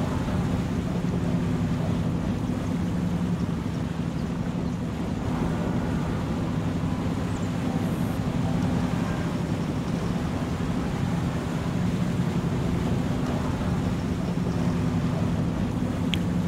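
A ferry moves across open water in the video game Farming Simulator 25, a steady low engine rumble mixed with waves and wind, continuous and even for the whole stretch, with no voices.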